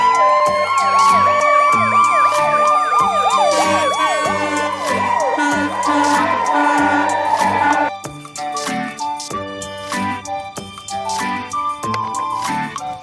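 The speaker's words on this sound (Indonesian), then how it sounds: "Wow, lihat teman-teman, ada mobil ambulan." A toy ambulance's wailing siren sweeps up and down repeatedly over steady background music, stopping about two-thirds of the way through while the music continues.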